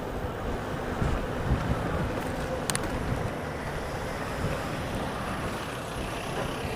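Headwind buffeting a cyclist on a South Korean bike route, a continuous rough wind roar over the microphone with gusty swells and a brief click partway through.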